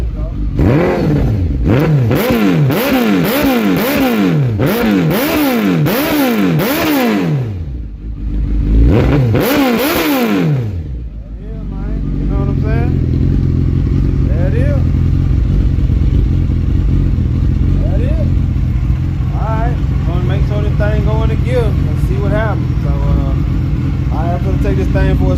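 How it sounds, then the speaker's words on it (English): A 2002 Suzuki Hayabusa engine, running after a clutch replacement, revs repeatedly in loud rising and falling sweeps, then settles into a steady, throaty idle nearby. "Got the bike running."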